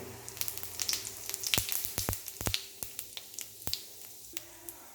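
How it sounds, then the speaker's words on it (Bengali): Whole cumin seeds hitting hot oil in a wok, giving a close, steady sizzle dotted with sharp popping crackles that gradually thin out. "তেলটা এবার গরম হয়ে এসেছে কড়াইয়ে দিয়ে দিলাম গোটা জিরে"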